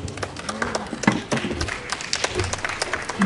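Applause from an audience at a university medical department event, a sparse, uneven patter of clapping with separate sharp claps, moderately close and without speech.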